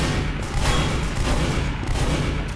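Gunfire in the video game Team Fortress 2, a rapid barrage of overlapping shots and booms that continues without a break, loud and close, with no speech.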